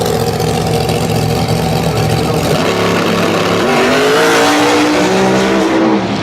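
A Porsche 997 launches hard off the line on a 60-foot run at a drag event, engine loud and close, revs climbing through the launch with rising pitch and tire noise.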